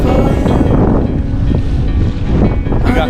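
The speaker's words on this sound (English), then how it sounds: "The wind is blowing." Strong wind blasting across the mic on a sailboat at sea in the Sea of Cortez, a loud continuous roar with the wash of water beneath.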